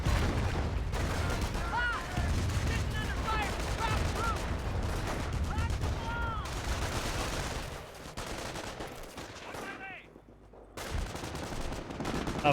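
Rocket barrage in Company of Heroes, a dense stream of rapid launches and explosions mixed with gunfire, loud and continuous for several seconds, briefly thinning before resuming, with commentary talking over it.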